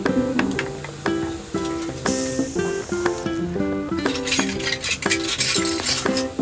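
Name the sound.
stirring onion, tomato, turmeric and salt in a pan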